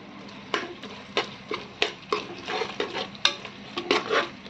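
Tomato and ginger-garlic paste frying in a pan for a Tamil mutton curry, with a steady sizzle and a series of sharp scraping stirs every half second or so, close up, without any talk.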